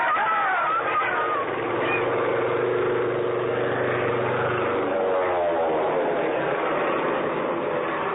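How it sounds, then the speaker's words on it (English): A low-flying airplane sweeps down a town's main street as a radio drama effect, a loud propeller engine drone that swells and shifts pitch as it passes overhead, heard alone without voices. "The plane was low, making a run right down Main Street."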